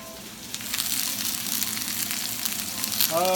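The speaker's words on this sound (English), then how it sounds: "I put a little more olive oil in it. I'm just gonna grab the onions and I'm gonna throw them in." Onions hit hot olive oil in a pan with a steady, close sizzle and crackle that swells slightly toward the end, with no talk over it.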